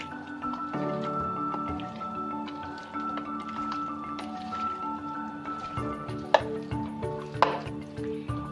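Spices are stirred into a shahi korma marinade, giving a soft, wet squishing and scraping with a few sharper clinks of a spoon near the end, no one talking.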